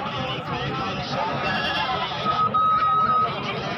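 Goats bleat amid the bustle of a crowded goat market, with several calls rising over a dense, noisy background of people talking nearby.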